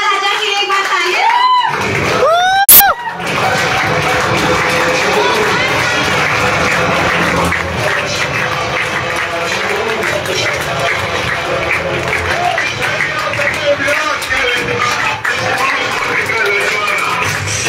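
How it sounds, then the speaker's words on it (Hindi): A large audience applauds loudly and continuously after a brief amplified voice, with the clapping sustained for a long stretch and scattered cheers mixed in. "आप सभी लोगों की जोरदार तालियों से हमारे महाराजा के लिए एक बार तालियां।"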